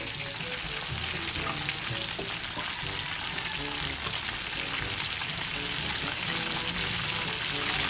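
Chicken pieces frying in hot oil give a loud, steady, dense sizzle with crackling throughout and no talk over it.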